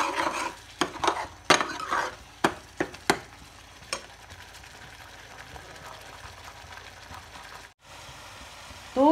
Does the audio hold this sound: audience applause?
no